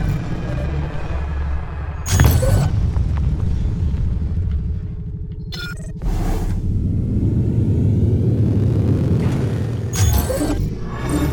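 Phaser fire in the space combat game Eve: Valkyrie, with sharp bursts standing out at intervals over a loud, continuous engine rumble and whooshing, and no voices.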